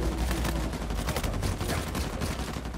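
Rapid video game gunfire from the shooter match Devil & SAINT vs Indra, dense bursts of automatic shots rattling continuously and loudly throughout.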